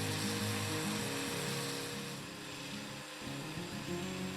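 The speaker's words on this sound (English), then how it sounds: "Now just run the drill pump until all the air is removed from the line and the water flows smoothly." A cordless drill drives a small pump to prime an aquarium canister filter line, running as a steady loud motor whine with slight speed wobble throughout, no voices.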